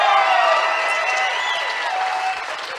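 Dense, sustained applause and cheering from a large live audience at a podcast taping, loud and continuous with whoops mixed in.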